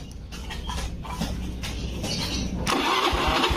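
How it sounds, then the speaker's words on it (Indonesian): A starter motor cranks a vehicle engine in a steady whirring churn, nearby and moderately loud, rising slightly toward the end as it keeps turning over, with no talk. "dinamo starter muter"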